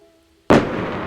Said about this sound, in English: But I see you found the firework.